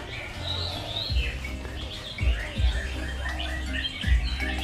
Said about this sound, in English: They have little birds and bird cages all the way around, which you can probably hear